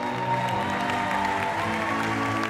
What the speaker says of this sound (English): We had to wait for people to stop clapping